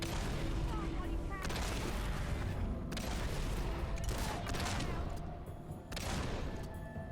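Continuous gunfire in the Fable 2 video game as shots hammer a stone triangle, a dense, loud barrage of overlapping bangs and booms with brief dips, sustained throughout.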